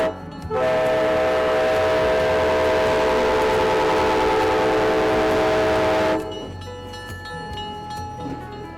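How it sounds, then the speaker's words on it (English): A vintage excursion train on the A&M line pulls into a depot in the Ozarks, its horn blaring loud and steady for several seconds before cutting off, leaving rumbling rail noise. "I went back over to the depot and the train was pulling in."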